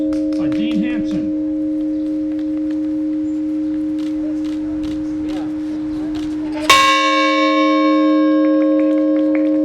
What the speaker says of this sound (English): And the 13th bell for Rhode Island by Dean Hanson.